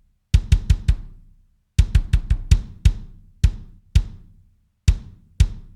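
A kick drum sample in a heavy 1990s style hits in punchy groups of quick thumps with gaps between them, loud, close and dry, with no voices.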